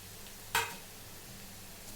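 Crushed garlic drops into onions fried golden brown in a pan for a ridge gourd dish, causing one sudden hissing sizzle that fades into a low, steady frying crackle.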